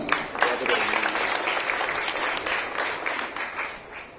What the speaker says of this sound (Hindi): तालियों से स्वागत। तालियां बढ़ती रहनी चाहिए।